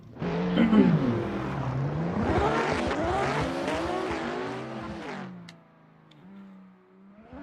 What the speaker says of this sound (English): Got to turn the cars down just a little bit. They're really loud.